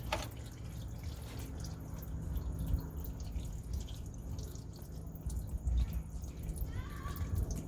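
Warm motor oil draining from a car's oil pan after a short drive, a steady close trickle and dripping that continues throughout.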